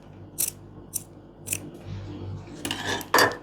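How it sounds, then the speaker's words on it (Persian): Scissors trimming excess fabric from the corners of a sewn coat, a run of sharp close snips spaced about half a second apart, with faint handling rustle between cuts and a final cluster of quick clips. "این گوشه ها رو هم اضافاتش رو قیچی میکنم"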